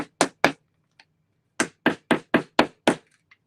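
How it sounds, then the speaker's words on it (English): A small hammer taps a piece onto a DIY decor box: three quick knocks, a pause, then a run of six sharp, close, evenly spaced taps with no talking. "You may have to take a little hammer and give it a tappity tap"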